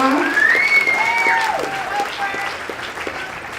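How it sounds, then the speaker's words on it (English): Applause for Frank Ski at his wine tasting fundraiser in 2011, a dense, steady round of clapping from the crowd with cheering voices and whoops rising over it, gradually thinning toward the end. "Y'all give Frank a round of applause for putting it on the line."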